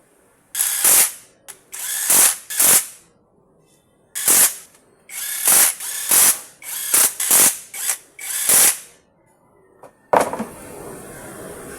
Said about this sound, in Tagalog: ibaon yung tornilyo para lumuha yung mga lumang langis